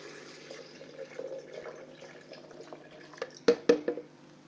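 Water poured onto Brazil nuts for blending, a faint trickle and light drips, ending in a few louder splashy pours up close.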